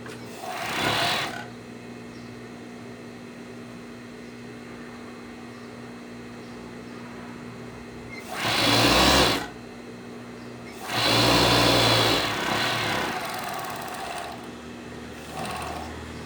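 A sewing machine stitches a seam on boxer briefs in three separate bursts, a short one, a medium run and a longer run, each close and fairly loud over a quiet, steady background hum.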